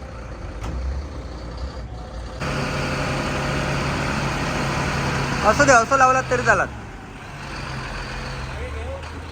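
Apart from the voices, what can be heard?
trucks being moved out one by one at crusher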